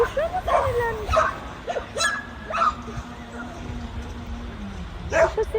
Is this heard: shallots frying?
no